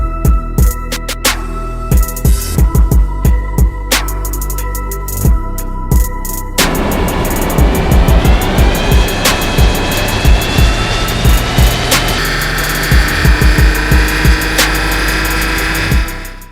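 A BMW M2 Competition, stock and untuned, runs hard on a chassis dyno. Loud, sustained engine drone climbs steadily in pitch through the gears, with a sharp step midway and no talk over it.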